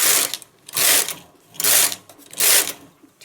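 A knitting machine carriage is pushed back and forth across the needle bed, knitting rows of a knotted shawl scarf: four loud, even whooshing mechanical passes, each about half a second long with short gaps between, and no voice.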